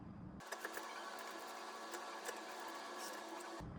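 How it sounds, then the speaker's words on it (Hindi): A sewing machine stitching a princess-cut blouse runs in one continuous, fast mechanical whir with a light ticking rhythm, starting and stopping cleanly, close and fairly quiet. "थोड़ा नीचे से यहाँ पर सिलाई करना स्टार्ट करते हैं"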